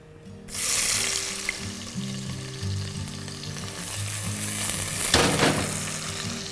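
Bay leaf, black and green cardamom, cloves and black peppercorns sizzle loudly in hot ghee for a lamb trotters soup, a continuous close frying hiss with a stirring burst near the end and a faint tonal hum underneath.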